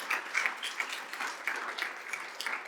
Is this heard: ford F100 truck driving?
no